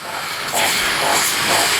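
Patriot 600 sprayer fogging water-based stain, a loud, continuous close-up hiss with slight surges in intensity throughout.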